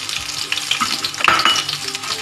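Ingredients frying in a pan for Tamil vatha kulambu, a loud close sizzle with scraping stirs and light clinks of a utensil against the pan, and no talking.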